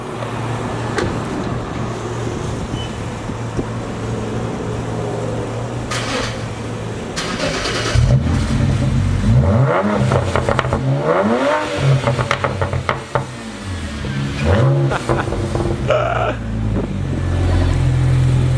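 A BMW 335i's N54 engine with its muffler removed cranks and catches, idling with a loud raw rumble, then revs sharply several times, each rev rising and falling back.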